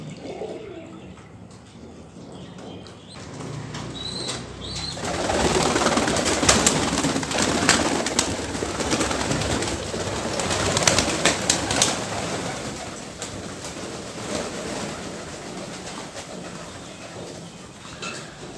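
Pigeons coo repeatedly in a summer setting near a water dish, with water sloshing and poured as a mix is stirred for the birds; steady bird calls run throughout at moderate loudness without talk.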